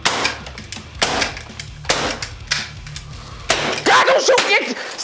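A CO2-powered salt gun shoots repeatedly at close range, sharp cracking pops in quick irregular succession, with people talking and shouting over and between the shots.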